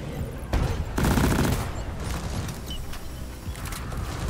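Dense, continuous gunfire in a wave-based shooter, with rapid overlapping bursts and loud booming volleys that pile up into a steady roar, close and constant throughout.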